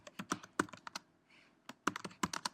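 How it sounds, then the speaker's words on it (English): Text being typed on a Mac computer keyboard: quick clusters of close, crisp key clicks, a brief pause, then another burst of keystrokes. "we can just type text."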